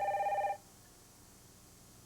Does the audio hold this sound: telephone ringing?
yes